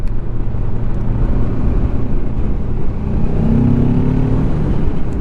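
A MASH K750 motorcycle engine runs with a loud steady rumble as the bike rides along, the tone rising slightly toward the end, heard up close with wind noise.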